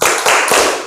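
A group claps the tepuk fokus classroom rhythm, three loud, close bursts of hand claps in quick succession.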